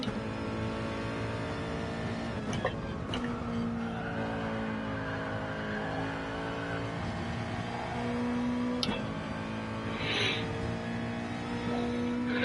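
A race car engine in a racing video game holds high revs around a track, a steady, loud drone with shifting pitch, a few brief tire squeals and gear changes, with no voices.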